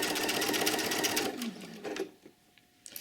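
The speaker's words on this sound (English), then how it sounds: "I can put my stitch length back to a 2 and just continue stitching" A sewing machine runs steadily while stitching a single welt pocket on a coat, a close, continuous rapid hum for over a second before slowing and stopping, then a few faint handling clicks.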